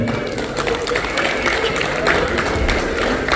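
An audience at a Shivjayanti celebration in Perth gives loud, sustained applause, a dense wash of many hands clapping close by for the whole stretch.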